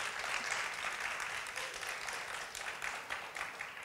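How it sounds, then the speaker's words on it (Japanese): Fairly faint applause from a congregation during a church service, a steady patter of many hands that swells a little and then eases off slightly. "let's give a hand to God"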